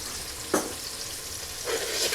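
Soft, steady sizzling of ginger sautéing in a frying pan, with a couple of brief stirring scrapes, close and fairly quiet.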